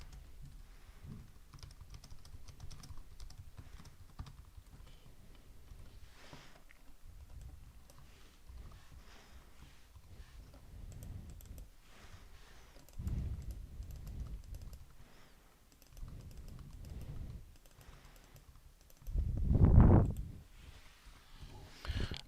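Code being typed on a computer keyboard, with steady soft key clicks running throughout and a few louder bursts of busier typing, close and alone with no talk.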